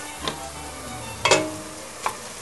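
A utensil scrapes and stirs browning meat in a frying pan in three distinct strokes, the middle one loudest, over a low, steady sizzle.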